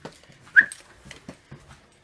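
A dog whimpers in short, thin whines, one sharper and louder cry followed by a few softer ones, close by in a quiet room with no speech.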